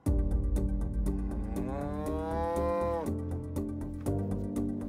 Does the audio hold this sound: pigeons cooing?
no